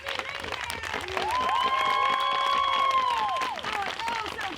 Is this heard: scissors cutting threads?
no